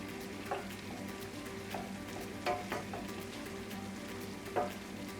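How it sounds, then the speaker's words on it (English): Plain flour is stirred into beef bolognese sauce sizzling in a pan: a steady soft fry with scattered scrapes and clicks of the spoon against the pan, no voices. "Sprinkle it in and then work it into the mixture until you can't see the flour anymore."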